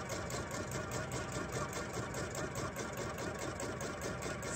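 Sewing machine stitching quilting fabric into half square triangles, a steady fast rhythmic whirr and needle chatter, close and continuous, with no talking.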